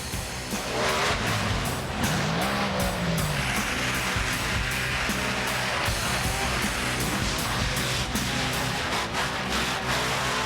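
Monster trucks race down a 350-foot track, engines roaring loud and continuous with tire squeal and revving rising and falling over the whole stretch.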